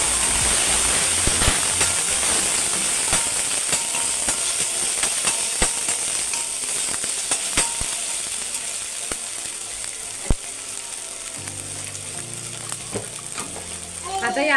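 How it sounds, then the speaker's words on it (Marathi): Onion with ginger garlic paste sautéing in a pan for mutton sukka, a steady close sizzle and crackle with occasional stirring scrapes, continuous throughout. "आता मी ह्याच्यामध्ये ना आलं लसूण पेस्ट ऍड केली आहे। आता हे व्यवस्थित परतून घ्यायचंय।"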